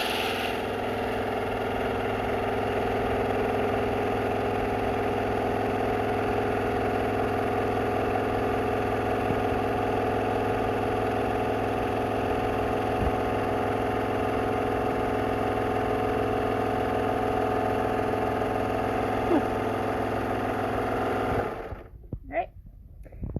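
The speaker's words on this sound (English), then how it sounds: "Sergers are loud." A serger sewing machine runs continuously at a steady, loud mechanical whir with a fast stitching hum, then stops abruptly near the end, leaving brief handling noises.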